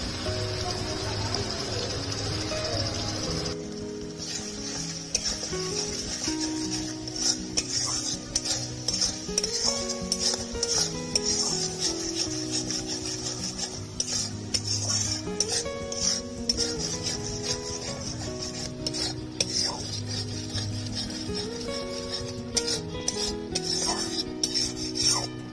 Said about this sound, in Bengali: মশলাটা 2 মিনিট ভালো করে কষিয়ে নিয়েছি